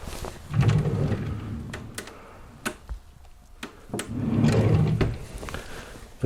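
A wooden drawer in an abandoned log house slides open and shut, with muffled rumbling runs, sharp clicks and knocks spaced across the moment, fairly close and without talk.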